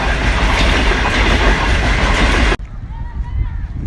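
Green Line passenger train running late from Punjab rumbles past on the rails, a loud, steady clatter of wagons close by that cuts off abruptly, leaving faint background sound.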